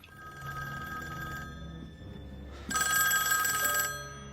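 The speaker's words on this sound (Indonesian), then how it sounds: "Namun tiba-tiba, sebuah telepon berdering." Telephone in a room in Squid Game episode 6, ringing in two bursts with a quiet pause between, the second ring louder and sharper, near and alone.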